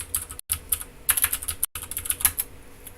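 Quick bursts of typing on a computer keyboard, close and crisp key clicks in uneven runs with two brief pauses.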